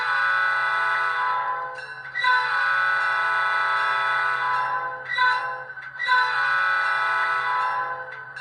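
Factory P5 horn on a stock HO scale model diesel locomotive, three sustained chime blasts close by, the second and third short and the last one long.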